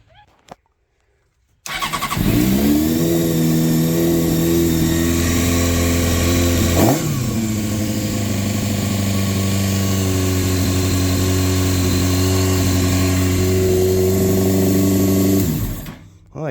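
A 2002 Honda CBR600 F4i motorcycle fires up after brief silence and idles loud and steady nearby, with one quick rev blip early on before the engine cuts off near the end.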